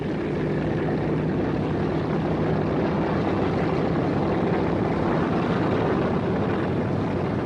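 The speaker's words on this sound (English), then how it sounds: "Steeped in tradition, the Boeing B-17 is more a legend than just an aircraft." Boeing B-17 Flying Fortress propeller engines droning in a loud, steady, unbroken roar that fills the whole stretch with no voices.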